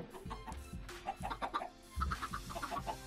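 Chickens clucking in the Minecraft modpack Tekxit, a series of short, repeated game-sound clucks at moderate level with no talking.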